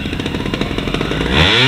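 A trials motorcycle engine climbs at a competition, a close, loud, rapidly pulsing putter that rises into a harder rev near the end.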